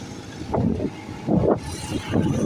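Road traffic passes at a roadside spot near a U-turn, with vehicles swishing by in a couple of close, rising-and-falling rumbles over a constant background wash.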